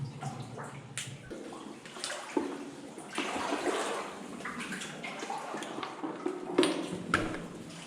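Knee-deep water sloshing in a flooded underground mine, repeated splashing surges as legs wade through, irregular and close, with echoing drips and swishes between strides.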